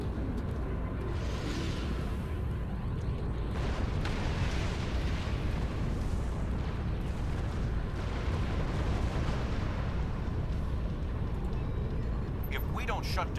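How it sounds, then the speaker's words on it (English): An enemy boss ship self-destructs in a space battle in Star Trek Online, a long, loud rumbling blast roaring continuously with crackling bursts, while voices speak over it. "Boss ship's about to set to self-destruct."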